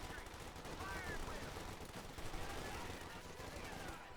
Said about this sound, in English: Grenadiers being about to get hit by a lot of angry American assault troops with a lot of guns.